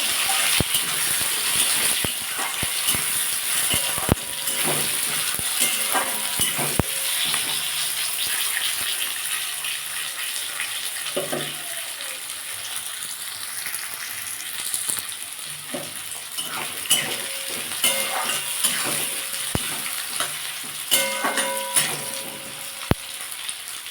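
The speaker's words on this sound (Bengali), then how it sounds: "আমি এর মধ্যে কটা রসুন দিয়ে দেবো পেঁয়াজ দিয়ে দেবো আর টমেটো দিয়ে দেবো এটা ভালো করে একটু ভেজে নেবো" Garlic, onion and tomato fry in hot oil for a bean mash, giving a continuous close sizzle with scattered sharp clicks and clatters of a utensil against the pan.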